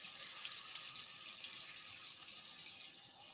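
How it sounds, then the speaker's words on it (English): Warm water pours steadily into milk paint, a continuous bright splashing rush that stays loud and close before easing off slightly near the end. "Warm water in your milk paint."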